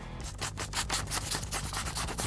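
A crayon rubs across paper in quick, repeated back-and-forth strokes, producing a close, rhythmic scratching.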